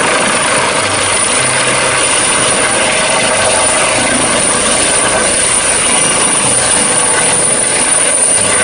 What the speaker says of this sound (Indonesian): ini ada helikopter dari pemadam kebakaran.